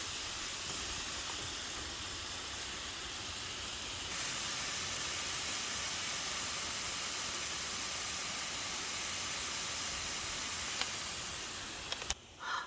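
Steak and broccoli cook together in a pan over a camp stove while car camping in the woods, giving a loud, steady sizzle and hiss that grows stronger partway through and then cuts off near the end.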